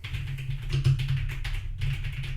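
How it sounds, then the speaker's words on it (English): Steady, rapid clatter of keys on a computer keyboard, close up, continuous with only a brief pause. "I'm gonna type right now."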